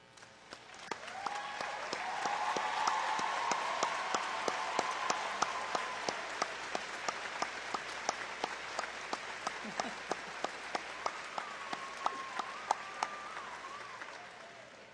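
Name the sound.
graduation audience applause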